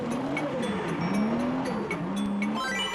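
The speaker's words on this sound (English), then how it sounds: "he fumbles his gear change at corner 1 and ends up understeering in front of the judges" A drift car at Ebisu understeers after a fumbled gear change, its tires squealing in a long wavering howl over the engine, loud and sustained, with faint crowd or track noise behind it.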